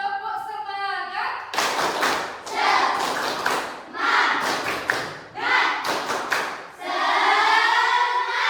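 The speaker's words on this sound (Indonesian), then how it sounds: "Tepuk semangat." A classroom of pupils performs a rhythmic spirit clap, loud bursts of group clapping and thumps in patterned beats with shouted chanting voices mixed in, between brief pauses.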